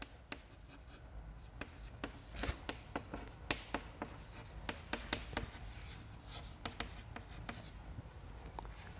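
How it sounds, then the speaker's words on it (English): Pen or chalk writing out a remark during a statistics lecture, quick scratchy strokes and taps in irregular bursts, close and fairly quiet with no talking. "So let me write down this as a remark."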